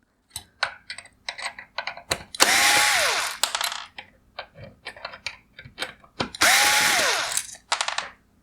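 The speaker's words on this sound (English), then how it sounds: "Next, I'm going to remove the T10 torque screws holding on this bottom plate." Power screwdriver backing out T10 Torx screws from the bottom plate of a 2016-2019 Mercedes-Benz GLS550 OEM LED headlight, two loud whirring bursts among rapid ticking clicks and small plastic taps, close up.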